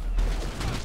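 Gunfire in GTA Online, a sharp loud burst of shots up close that fills the whole short moment, with no talk over it.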